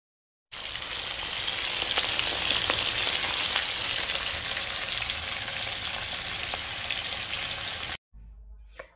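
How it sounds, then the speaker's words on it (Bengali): Fesa fish sizzle loudly in hot oil in a pan, a dense continuous crackle with occasional sharper pops that runs for several seconds before cutting off abruptly. "এবার তেলটা গরম হয়ে গেছে, কড়াইতে মাছগুলো সব আমি দিয়ে দিয়েছি"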